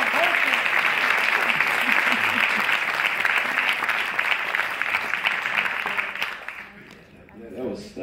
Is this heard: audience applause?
yes